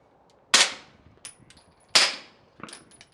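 Two sharp, loud suppressed shots from a Stealth Arms Platypus 1911/2011 pistol firing 147 grain rounds at an outdoor range with a berm, each followed by a fainter metallic clack and a short tail, with no talking.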